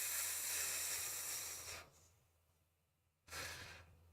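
Steady hissing sizzle from an object lying on the floor in a tabletop fantasy game session, loud and continuous, breaking off briefly before hissing up again near the end.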